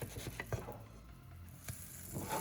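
Oat and Greek yogurt pancake sizzling in butter in a pan, with a soft continuous crackle close by and a few light taps and scrapes from stirring or flipping.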